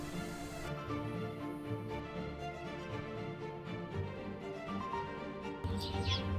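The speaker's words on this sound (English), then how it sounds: "Can you hear the bird song?" Faint birds chirping and tweeting in the distance over a steady outdoor background hum, with no talking.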